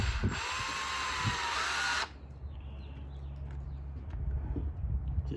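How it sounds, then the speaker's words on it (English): A power drill whirs loudly for about two seconds driving a deck screw into wood while building a beater bar, then stops, leaving quiet shop ambience with faint knocks. "Put it in place, and I'll put the next screw down."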